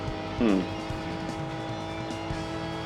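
Daihatsu or Suzuki one-make race car in Gran Turismo 2 driving fast with a steady engine drone, a short tire squeal early on, and a voice talking over it.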